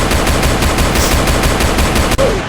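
Rapid gunfire in the Roblox Brookhaven video game rattles in a steady, fast burst of repeated shots, loud and continuous throughout.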